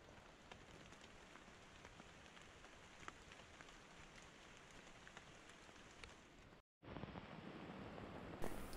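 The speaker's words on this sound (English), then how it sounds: "I just enjoy listening to the rain." Steady rain patters on a camping shelter in the Amazon jungle, a dense, even hiss that stays constant apart from a brief dropout near the end, with no voices.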